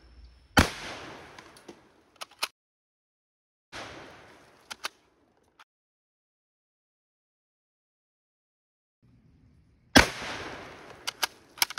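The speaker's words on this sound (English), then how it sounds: "We're going to shoot about five or six times." An old Mossberg gun fired outdoors: three sharp, loud shots spread over several seconds, each with a decaying echo and a few smaller clicks and pops after it, separated by near silence.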